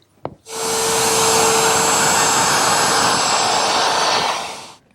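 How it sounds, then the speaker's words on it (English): A router fitted with a 1/4-inch radius bit spins up and rounds over the top and bottom edges and sink hole of a wooden countertop, a loud sustained whine and rush lasting about four seconds after a short click, then winding down. "Here I'm using a 1/4 inch radius bit to round over the top and bottom edges of the countertop and the sinkhole."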